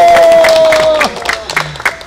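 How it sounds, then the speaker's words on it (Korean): A short burst of applause from a crowd at a poetry reading and book launch ceremony, fading after a second into scattered claps, with a sustained tone ringing at the start. "어머님한테 더 큰 박수 주세요."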